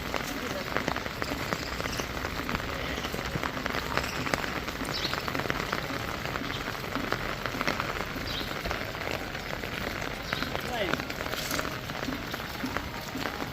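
Rain falling in a village, a steady dense patter across the whole stretch with scattered brighter drops, moderately loud and continuous.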